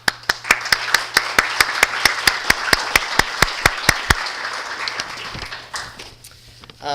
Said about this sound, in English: please join me in a round of applause for all the outgoing leadership